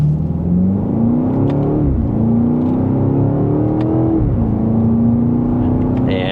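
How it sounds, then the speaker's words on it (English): A 2026 BMW X5 M Competition accelerates from first gear, engine rising in pitch with quick shifts between gears, loud and steady from inside the cabin. "So let's do another slight acceleration from first gear here."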